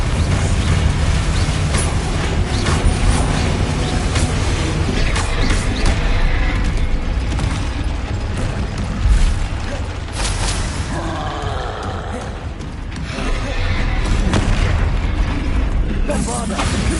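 Bombarda and Confringo spells exploding in Hogwarts Legacy: a loud, dense barrage of booms, blasts and crackling magical impacts that runs without pause, with rumbling effects layered throughout.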